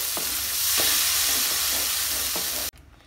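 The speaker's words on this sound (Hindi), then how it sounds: "अब इसमें हम दे देते हैं पालक के पेस्ट को। इसको देकर मिक्स करना है।" Spinach paste is stirred into palak paneer over medium heat, a loud, steady sizzling hiss broken by four regular scraping strokes before the sound cuts off abruptly.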